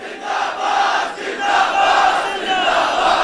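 A large crowd at a religious gathering loudly chants the slogan Tajdar-e-Khatm-e-Nabuwwat in unison, voices rising and falling in a sustained, massed roar that fills the space without pause.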